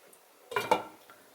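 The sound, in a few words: lid put on a cooking pot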